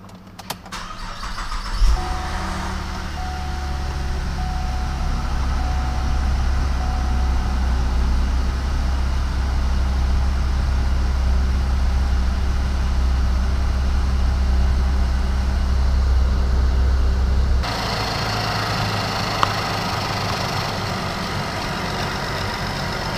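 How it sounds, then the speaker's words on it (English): A second-generation 2008-2014 Cadillac CTS, just fitted with a new water pump, cranks and catches at once, then settles into a steady low idle. The pitch shifts partway through as the heater fans come on. "now we're going to start the car for a little while, blast the heat, and wait for it to pull it through"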